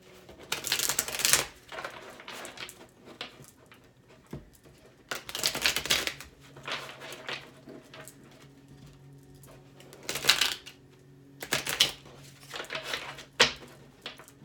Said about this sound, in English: A couple of shuffles and we'll get started.